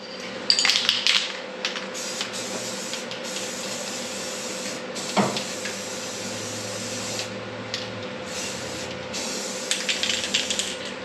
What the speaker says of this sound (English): I'm just putting some paint down in here, that way it'll help keep it from rusting out